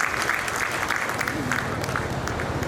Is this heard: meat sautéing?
no